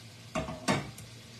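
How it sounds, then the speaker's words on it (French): Chard and chicken simmer in a pan for a colombo tagine, a soft bubbling hiss with two brief louder stirring scrapes, close and quiet, with no talk. "Puis ça mijote, vous entendez le bruit?"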